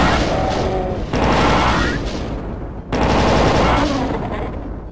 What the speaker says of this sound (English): Time to bust out the plasma gun.